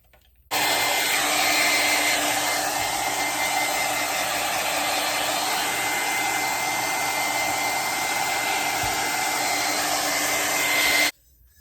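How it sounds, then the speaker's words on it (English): A hair dryer roars steadily at close range for about ten seconds, a constant loud whooshing hum that starts and stops abruptly. "I'm going to go ahead and take my hairdryer and I'm going to make sure it's good and dry."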